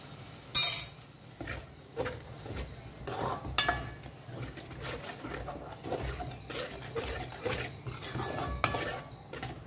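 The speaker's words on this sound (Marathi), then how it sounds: "उदक घालता आनी ताका बरें मिक्स करून घ्या" A spoon scrapes and clinks against a metal pot while cooked dal is stirred after water is added, producing irregular close-up taps and scrapes over a faint low background.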